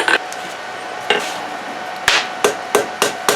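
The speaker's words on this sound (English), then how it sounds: "I like to put a ball peen texture in the top there" A ball peen hammer taps a texture into the top of a forged steel ulu-style herb chopper, with sharp, close metallic strikes in a loose, uneven series, about eight hits with short quiet gaps.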